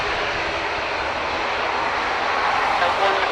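A Ryanair jet at Dublin Airport, bound for Gatwick, roars steadily and loudly as a broad, continuous engine wash that swells slightly toward the end.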